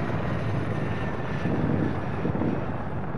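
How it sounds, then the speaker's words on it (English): A helicopter in a military shooter video game: a steady, loud rotor and engine drone that stays constant throughout, with no voices. "I think he's in a helicopter."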